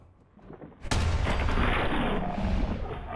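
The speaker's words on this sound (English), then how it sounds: "Reload and shoot again." Gunfire in the Fallout 4 video game: a sudden loud blast that holds as a dense, sustained roar and rumble for a couple of seconds. No one speaks.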